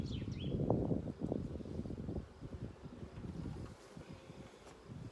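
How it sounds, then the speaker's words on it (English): Honeybees are shaken off a hive frame, making a soft, close buzzing hum with a few brief bumps and rustles, fairly faint and fading toward the end, with no talking. "So I'll just shake these bees off."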